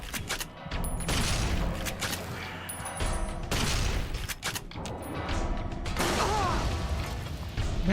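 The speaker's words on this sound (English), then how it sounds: "Man, that explosion radius is so crazy." Gunfire and a large explosion in the video game Fallout New Vegas crash through several loud, dense blasts and mechanical clatter over eight seconds.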